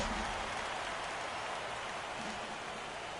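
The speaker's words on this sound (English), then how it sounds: "Well, the rain is coming down hard here." Heavy rain pours down in the MLB The Show 17 baseball game during an NLDS matchup between the Washington Nationals and St. Louis Cardinals, a steady, dense hiss that fills the whole stretch with no talk over it.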